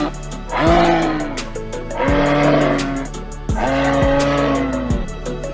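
A camel groans and bellows three times in a row, each a loud, rough, guttural moan with gurgling, close and with no other sound.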